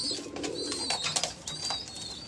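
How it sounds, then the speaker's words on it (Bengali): Pigeons at a small home pigeon farm cooing close by, repeated soft throaty coos overlapping in a steady rhythm, with faint chirps mixed in. "আবারও কিছু কবুতর নিয়ে আসলাম এটা আমার নিজস্ব খামার"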